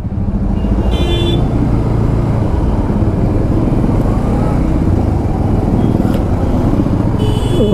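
A Bajaj Pulsar NS160 BS6 motorcycle runs steadily at speed on a road, a loud continuous engine drone mixed with heavy wind rush, with faint traffic tones in the background.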